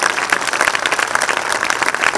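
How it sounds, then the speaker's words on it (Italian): An audience at an evening bersaglieri fanfare band concert breaks into dense, steady applause, many hands clapping at once without pause, loud and sustained. "Possiamo davvero accoglierli con un altro grande applauso."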